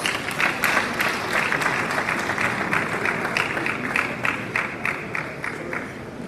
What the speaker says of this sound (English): Please make it welcome. Round of applause.